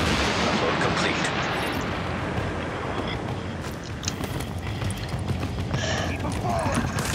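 Sustained, loud gunfire and grenade blasts from a firefight in Tom Clancy's The Division video game form a dense, unbroken roar of shots and explosions, with voices mixed into the chaos.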